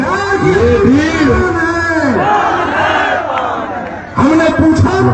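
A large crowd at a political rally in Bhagalpur roars and chants together, loud and continuous with overlapping shouts, dipping briefly before a fresh burst of yelling.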